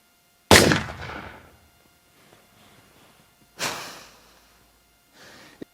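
Gunshot sound effect: one sharp, loud bang with a decaying tail, then a second, softer blast a few seconds later, with quiet in between.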